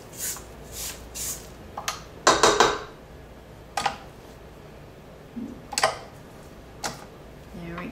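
A spatula scrapes down the sides of a mixing bowl of lemon syrup loaf cake batter, making short, close scraping strokes and light clinks against the bowl, spaced irregularly.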